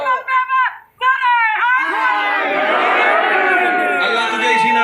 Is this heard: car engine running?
no